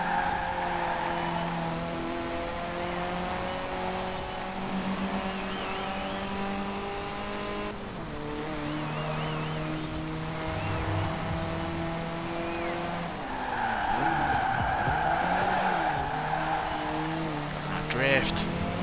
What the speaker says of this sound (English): I know drifting is not the quickest way around a corner